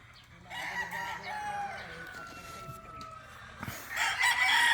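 Roosters crowing among other chickens on a farm, several drawn-out crows overlapping one another with clucking between them.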